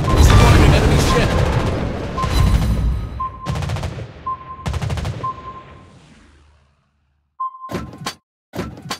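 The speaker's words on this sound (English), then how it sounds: "Anti-aircraft gun on full alert." Anti-aircraft guns firing aboard a Tier 6 US cruiser Pensacola in World of Warships Blitz, loud booming bursts and rapid shots layered with game noise and a voice callout, fading out before a few sharp final blasts.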